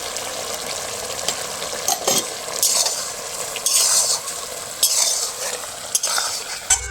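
Raw jackfruit malai curry being stirred in a pan after fried spices go in, with a steady sizzle and frying hiss under repeated scraping strokes of a spoon against the pan, continuous and close.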